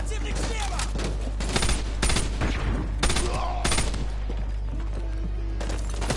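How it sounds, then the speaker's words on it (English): Burst rifle gunfire in the Call of Duty Modern Warfare 2 video game, loud sharp bursts of shots recurring every second or so over a continuous low rumble of battle. "I picked up a goddamn burst rifle."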